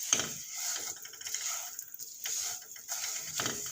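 Kamarkas roasting in hot ghee, a quiet crackle and sizzle broken by small clinks and scraping stirs, fairly faint throughout.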